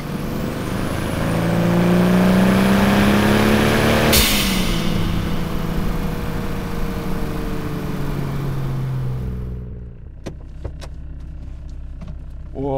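A Toyota Supra MK4 with its turbocharged 2JZ-GTE engine runs loud and close, rising then holding a steady drone before cutting off, leaving a few sharp clicks and knocks in near silence.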